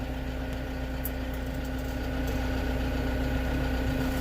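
An engine idles with a steady low drone and a constant hum while being put in gear, close and even, with a couple of faint clicks over it.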